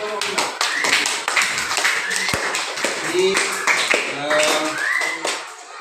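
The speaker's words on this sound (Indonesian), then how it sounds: "Ya, silakan tepuk tangan untuk kelompok 5." A class of schoolchildren claps in a dense, lively round of applause that runs throughout, with voices chattering and calling out over it.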